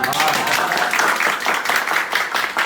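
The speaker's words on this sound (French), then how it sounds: "Applaudissements." Steady applause from a crowd, dense clapping continuing throughout at an even level, with some voices mixed in.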